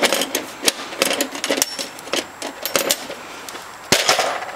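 Someone rummages through a metal toolbox for sockets while repairing a 1979 Toro 524 snow thrower. Close, busy metallic clattering and clinking of tools and sockets comes in rapid, uneven bursts, with no speech.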